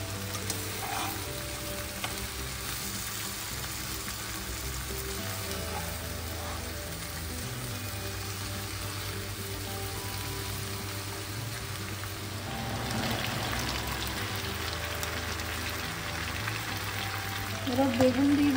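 Colourful vegetables fry in a pan for a homemade sambar dal, giving a steady, even sizzle that runs throughout, slightly louder toward the end.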